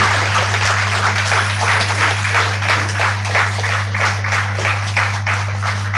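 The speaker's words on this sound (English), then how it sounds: "Ladies and gentlemen, round of applause." Audience applause at a 75th foundation day celebration, a steady, even wash of many hands clapping throughout, with a constant low electrical hum from the sound system underneath.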